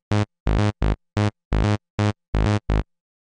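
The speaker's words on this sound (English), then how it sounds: "because without it, your electro bass sounds like this." An electro bass synth patch is played in Ableton Simpler with no audio effect rack: eight short, punchy, buzzy bass notes in a clipped rhythmic riff, each stopping abruptly, alone and fairly loud.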